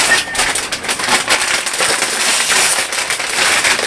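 Crispy round Tostitos tortilla chips are handled close by, giving a dense, loud crackling and crunching rustle that continues throughout with no talking.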